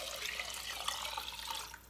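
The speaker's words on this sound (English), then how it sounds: "And now here is where you're going to put the water." Water runs steadily into a cooking pot holding 3 cups of rice, a continuous splashing, filling pour heard close and alone for just under two seconds.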